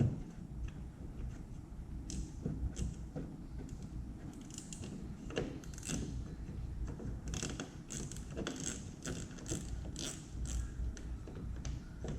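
Small metallic clicks and scrapes of a screw being worked loose from a sidemarker on a Dodge Charger Daytona, quiet and close, with irregular ticking taps throughout and no talking.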